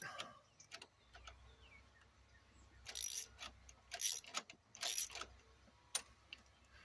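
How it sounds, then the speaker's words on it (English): A wrench works a nut on the EGR valve of a 1996 Lumina, giving several short, faint metallic ratcheting clicks and scrapes in a quiet space, spaced about a second apart. "Getting the wrench to stay right where it needs to be instead of slipping over the nut"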